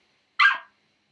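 A Minecraft dog gives one short, sharp synthesized bark that is loud and isolated against digital silence.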